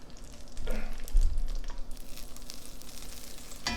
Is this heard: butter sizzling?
yes